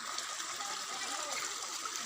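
Rushing stream water flowing strongly and steadily, a continuous bright gushing sound close by.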